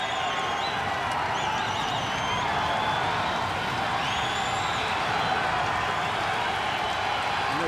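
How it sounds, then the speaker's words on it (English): A boxing arena crowd on its feet during a Winky Wright versus Sam Soliman fight, a dense, loud, continuous roar of cheering, whoops and clapping that holds steady throughout. "The crowd is on its feet and cheering."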